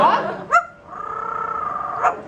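A yellow-naped Amazon parrot imitates a dog, giving two short sharp bark-like yips around a sustained whining tone, close and fairly clear.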